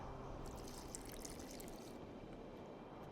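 Water being added in The Witcher 2 video game, a steady broadband splashing, pouring wash that runs evenly throughout with a brief brighter trickle early on, with no voices.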